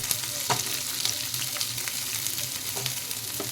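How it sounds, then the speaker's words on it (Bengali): Soyabean chaap frying in oil over a high gas flame, giving a steady close sizzle throughout with a few soft stirring clicks and scrapes. "এগুলো একটু জোরে গ্যাসেতে দিয়ে ভালো করে ভেজে নেব।"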